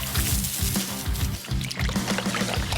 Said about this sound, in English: First, we will spray down all the parts to remove any debris